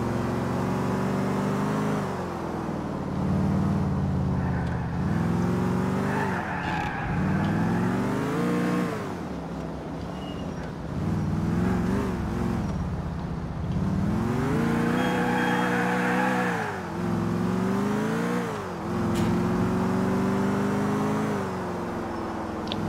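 Motorbike engine in the video game GTA IV, revving up and down repeatedly with rising and falling pitch sweeps between gear shifts, loud and close with brief dips where the throttle eases.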